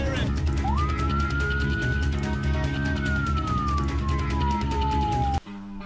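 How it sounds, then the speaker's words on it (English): A tornado siren on a small model trapezoid wails in a single long rising-and-falling tone over dense, loud background music, then cuts off suddenly. "it's even got a tornado siren"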